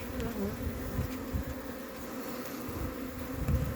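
Honey bees buzz densely around a hive, a continuous droning hum with individual insects passing close, no voices.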